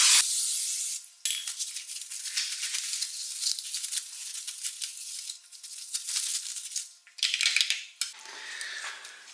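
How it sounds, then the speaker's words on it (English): Brake cleaner sprays onto the surface of a car side mirror in loud, close hissing bursts separated by brief pauses, with a few rubbing noises in between. "Brake cleaner to clean the surface."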